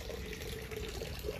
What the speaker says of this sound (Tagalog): dito na kumukuha ng tubig yung makina, tapos pabalik dito.